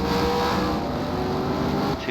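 NASCAR stock cars racing at Charlotte roar in a dense, continuous engine wash, loud and steady with a slight dip at the end, under a commentator's voice.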